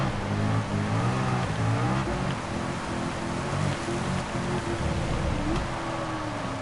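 A race car in Gran Turismo 7 drives on heavy wet tyres through torrential rain, its engine droning and rising and falling through gear changes under a constant loud hiss of spray and rain.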